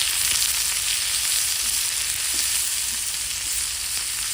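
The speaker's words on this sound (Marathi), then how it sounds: "मी तीन मिडियम साईजचे कांदे घेतलेले ते पण टाकून घेऊ ते गोल्डन ब्राऊन कलर होतोपर्यंत व्यवस्थित परतून घेऊ" Three medium-sized onions frying in a pan for a Maharashtrian black chicken sukka, browning to golden; a steady, dense hiss of sizzling oil runs throughout with no talking.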